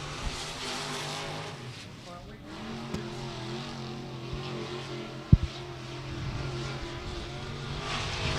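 A race car circuits Beckley Motor Speedway during qualifying for local classes, its engine a steady distant drone beneath crowd and PA ambience, with a sharp knock midway.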